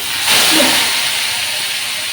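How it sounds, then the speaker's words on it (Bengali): Dried red chili and cumin frying in hot oil for a prawn dish, giving a loud, steady sizzling hiss that swells briefly near the start and then holds evenly to the end, with no talking. "শুকনো লঙ্কা জিরেটা ভাজা ভাজা হতে হতে দিলাম"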